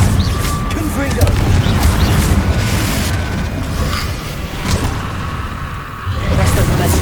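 Blast spell explosions in the Hogwarts Legacy video game boom loudly in a fight against Inferi, with bursts and whooshes layered over dense battle noise.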